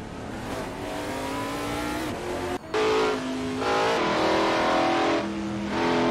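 Porsche race cars at full throttle around Spa-Francorchamps in Gran Turismo Sport, engines droning and rising in pitch through gear changes, with a brief dropout and a louder surge of revving as cars pass, no talk.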